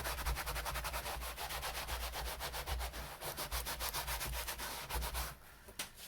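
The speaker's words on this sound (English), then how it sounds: "Sometimes I'll give it a bit of a rub with a bit of fly screen." A hat being rubbed with a piece of fly screen in a hat-making studio, a close, rapid, rhythmic scratching that continues steadily throughout.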